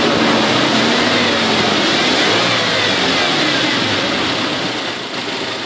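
A car engine revs hard under acceleration during a workshop check of idle-control and throttle actuators. It gives a loud, continuous roar close by that eases slightly near the end, with no voices.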